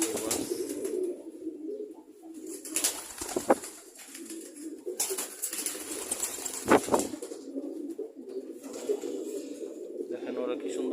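Pet pigeons cooing and fluttering, soft coos mixed with bursts of wing flapping and rustling, with a voice talking intermittently over them.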